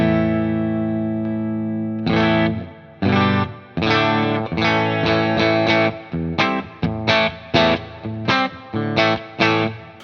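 Electric guitar through a Uraltone Jr kit amp set clean with no boost, a sustained chord ringing out first, then a series of separate strummed chords and short stabs with pauses between them, loud and close.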